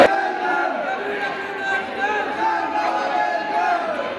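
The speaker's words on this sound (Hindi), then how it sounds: "बहुत भीड़ है गाइस आज, तो पता है एकादशी है इसलिए बहुत भीड़ है।" Large crowd at a temple on Ekadashi, a dense, continuous murmur of many voices with a festive fair atmosphere, steady and fairly loud throughout.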